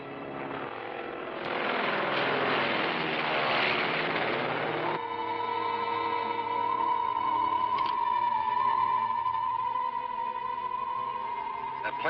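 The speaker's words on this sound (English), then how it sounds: "That plane's headed this way." A propeller plane drones steadily overhead in a 1966 serial scene, a loud continuous engine hum that swells and holds, with a brief burst of noisy clatter early on.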